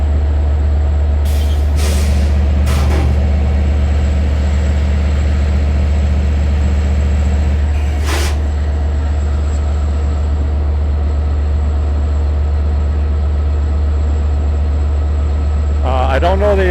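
A Long Island Rail Road train of eight C3 cars idles at Westhampton station with a steady low engine drone, a few sharp air-brake hisses and a brief squeal near the end, doors still closed.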